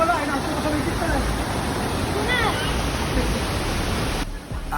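Water rushes loudly and steadily at a river bathing spot, with faint voices under it and a brief drop near the end.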